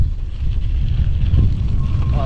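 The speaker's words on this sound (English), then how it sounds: "It turned out to be a beautiful day. A little bit of wind." Wind buffeting the microphone on a mountain bike trail ride on a hardtail, a steady low rumbling roar close to the mic throughout.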